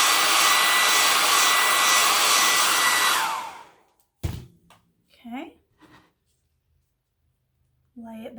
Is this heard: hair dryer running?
yes